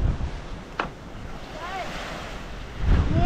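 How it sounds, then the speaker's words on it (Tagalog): Strong wind blows at a Philippine island seashore, a broad, gusty rush with blowing sand and surf that swells toward the end, with a couple of brief sharp sounds in the mix. "Sobrang lakas po talaga ng hangin ngayon."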